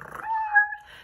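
A human voice imitates a cat, giving a short rolling purr that rises into a drawn-out meow, close and alone.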